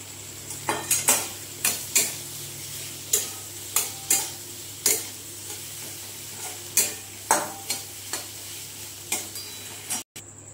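Potatoes coated with salt, sugar and ground sesame paste frying in oil, a steady soft sizzle punctuated by regular sharp taps and scrapes of a spatula, close and moderately quiet.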